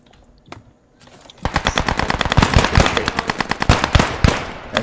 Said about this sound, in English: That's an MG. Is that friendly? That is, yes, that's an MP40.